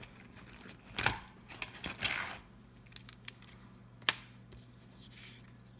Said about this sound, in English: Just cut to the score line and then remove that